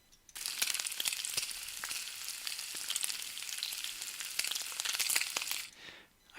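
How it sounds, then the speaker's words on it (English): Bacon sizzles steadily in a frying pan, a dense crackling hiss dotted with sharp little pops, heard alone and close for about five seconds before fading out. "Let's find a nice frying bacon sound."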